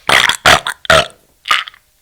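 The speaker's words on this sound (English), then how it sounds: "You're forcing me to burp." Four loud, close burps in quick succession, each a short throaty rumble with brief gaps between them, the last one shorter and more strained.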